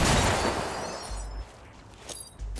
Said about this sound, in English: Invictus, you get a flashbang.